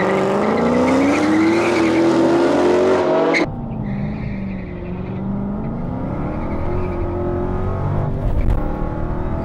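A Dodge Challenger Hellcat drag races a Ferrari 599, its engine roaring loud and close through a hard acceleration before cutting abruptly, then a lower engine drone and tire noise carry on.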